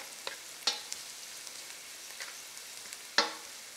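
Onions frying in a pan for Kerala-style mutton biryani, a faint steady sizzle with a few sharper crackles and stirring clinks, no voices.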